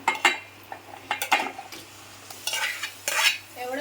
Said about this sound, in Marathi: आता चिकन टाकून घेऊया